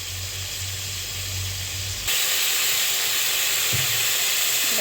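Spiced masala sizzles steadily in hot oil while being sautéed for a Bengali pabda fish curry, a dense close hiss that grows louder and brighter partway through, with faint stirring underneath.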